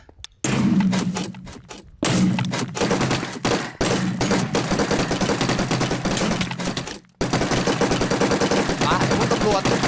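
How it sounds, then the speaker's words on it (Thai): Rapid bursts of gunfire in Minecraft come in sharp, stuttering volleys with short silent gaps between them, loud and close. The shots sound like a fusillade of machine-gun fire. "ตอนนี้ตอนที่คนยิงเลย"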